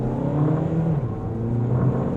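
A Volkswagen Jetta 2.0 TDI diesel with 140 bhp accelerates in sport mode on an open road, its engine a steady, rising droning hum heard from inside the cabin, with no talk.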